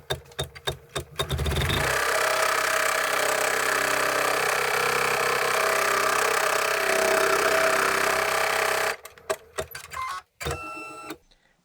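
A home embroidery machine runs a tack-down stitch on facemask fabric, with a steady, fast mechanical whir that holds for about seven seconds. Short start-up clicks come before it, and a few clicks and stops follow as it finishes.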